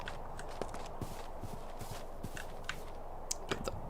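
Faint, steady clip-clop of horse hooves walking at an even pace in the video game TerraFirmaCraft, quiet and distant-sounding with light ambient noise.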